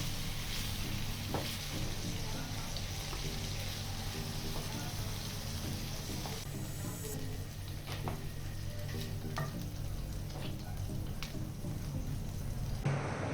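Chicken pieces fry in a pan with oil, a dense continuous crackling sizzle like steady rain, close and loud throughout with a few faint clicks and no talk.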